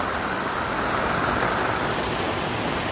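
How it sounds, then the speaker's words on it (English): Heavy tropical rain pours down on a sailboat in the Bahamas in a dense, constant hiss and patter, loud and unbroken from start to finish. "It's raining so hard."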